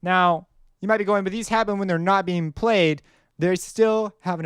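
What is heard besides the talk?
No distinct noise like a dog, phone or traffic.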